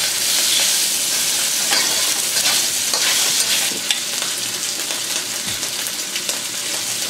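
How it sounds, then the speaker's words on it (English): Beef searing in a wok over high heat with ginger already in the oil, a loud continuous sizzle and frying hiss with light stirring scrapes, steady throughout with no talking. "We're going to sear the beef."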